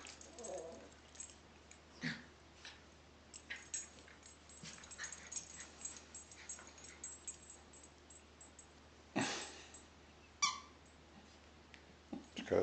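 Squeaky dog toy squeezed during a tug-of-war game between dogs, giving a few scattered sharp squeaks over quiet indoor rustling, with louder bursts near the end.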